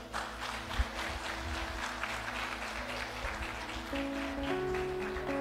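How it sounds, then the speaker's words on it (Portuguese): A church congregation applauds a pastor with steady, dense clapping throughout, while sustained keyboard or organ tones enter and grow toward the end. "Salva de palmas, pastor Eliseu."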